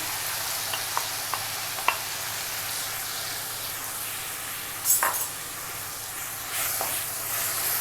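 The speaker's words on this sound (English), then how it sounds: "Now we'll add nice bright red tomatoes. So that goes in." Bright red tomatoes for pizza sauce sizzle in a pan with a steady hiss, a few sharp clicks early on and a brief louder burst of spattering midway.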